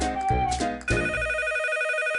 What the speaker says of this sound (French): Le téléphone sonne, c'est Cofidis.